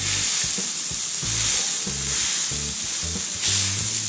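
Grouper fillets with butter and seasoning frying on a Blackstone griddle give off a constant loud hissing sizzle, with soft scraping and tapping of a utensil underneath, heard up close and without speech.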